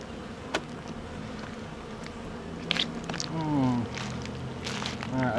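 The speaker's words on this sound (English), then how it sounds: "there's something about being around the bees" Honey bees buzz around a weak hive during cleaning, a steady droning hum with occasional closer passes rising and falling in pitch. A voice is briefly heard.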